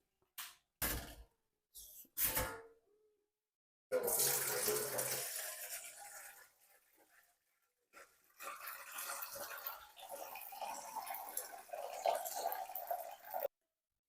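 Tap water runs in short bursts over a sink, with a louder gushing stretch and then a steadier flow, broken by brief pauses and a few clunks.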